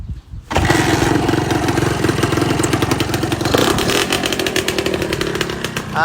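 A Honda Dash 125 motorcycle engine with its original carburetor starts with a clatter, then runs steadily at a loud, rough idle with slight revving throughout.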